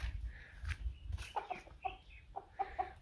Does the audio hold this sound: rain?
no